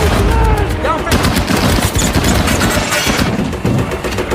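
Dense, loud gunfire from a war film battle scene in which soldiers surround and attack an American Sherman tank named Fury from several sides, rapid overlapping bursts and shots continuing throughout with engine rumble beneath.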